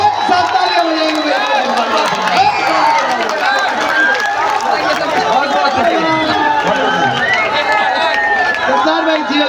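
Crowd at a Hindi mushaira and kavi sammelan poetry recital in Darbhanga, clapping and cheering together in a loud, steady wash of applause and chatter that fills the whole stretch.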